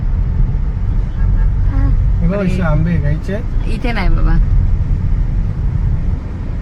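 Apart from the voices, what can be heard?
road traffic noise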